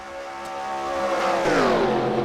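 A pack of stock cars roars past together in a Daytona 500 racing video game, layered engine drones climbing in pitch and swelling louder as they close in, steady and unbroken with no talk.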